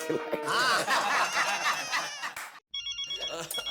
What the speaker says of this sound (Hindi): किसका फोन है?